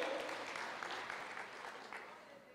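A church congregation claps together in a sustained, dense burst of applause that gradually fades over a couple of seconds, with no voices standing out.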